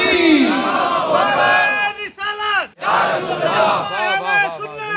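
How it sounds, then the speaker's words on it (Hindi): A crowd at a religious gathering shouts the takbir slogan back in unison, a loud, full-throated roar of many voices that swells, briefly dips, then rises again. "नारे तकबीर"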